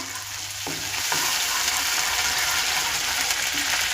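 Steady, loud sizzling of ginger garlic paste frying in hot oil, a dense crackling hiss that fills the whole clip with no talking.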